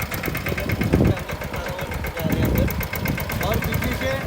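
A tractor engine runs steadily while sowing sorghum in a farm field, a loud, continuous mid-pitched rumble with a regular idling pulse, and people talk over it.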